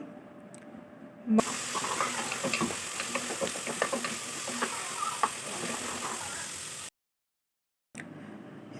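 Onions with salt and green chili fry in a pan, giving a continuous close sizzle with scattered ticks and crackles for several seconds. The sound then cuts to silence before a brief return.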